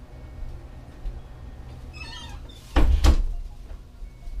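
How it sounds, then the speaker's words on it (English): A bedroom door swings shut with a brief squeak followed by a solid double thump, fairly close against a quiet room with a furnace humming in the background. "Close my bedroom door"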